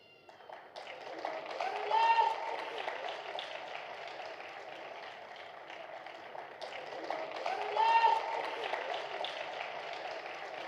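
An audience at a Christmas celebration event claps in a soft, distant, continuous patter of applause that swells twice under an announcer's voice.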